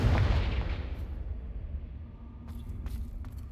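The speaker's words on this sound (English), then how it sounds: "Confringo." A Confringo fire-spell explosion from Hogwarts Legacy bursts loudly at the start, then rumbles and decays over a couple of seconds, leaving faint game ambience and small clicks.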